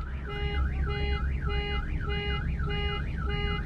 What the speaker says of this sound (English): All their beer set off the alarm